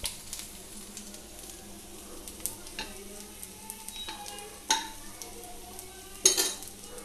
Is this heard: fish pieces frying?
yes